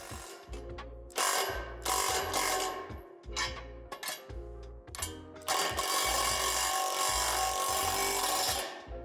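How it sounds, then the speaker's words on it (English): A ratchet wrench with a 5/8 deep socket tightens hardware on a portable basketball hoop during assembly: bursts of rapid, close clicking strokes repeat in rhythm, then a longer continuous ratcheting run near the end, with no talk. "I like to tighten this with a 5/8 deep socket."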